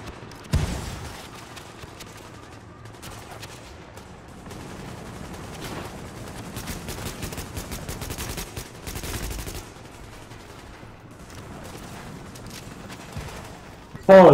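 Sustained automatic gunfire from a firefight in The Division on PC, a long rattling stretch of rapid shots with bursts of heavier fire and occasional voices underneath.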